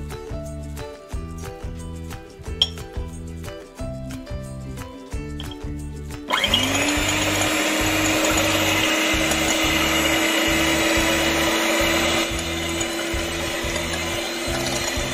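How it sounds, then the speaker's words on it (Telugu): An electric mixer whirs steadily as it beats three eggs for vanilla tutti frutti cupcake batter, loud and continuous, with a rhythmic clattering motor sound at the start before settling into a constant high whine. "ఇప్పుడు ఈ 3 ఎగ్గల్ని బీట్ చేసుకుందాం."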